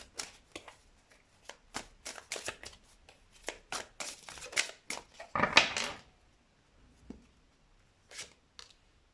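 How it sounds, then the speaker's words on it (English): Tarot cards are handled, shuffled and drawn close up, with a run of crisp flicks and paper taps, a louder riffle in the middle and scattered softer snaps after it. "So let's get two more cards."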